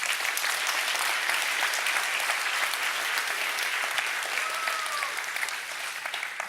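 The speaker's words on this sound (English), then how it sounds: "one more round of applause quickly for the two of them" A conference audience at a JavaScript event applauds its hosts with thick, continuous clapping that stays loud for several seconds before easing slightly near the end.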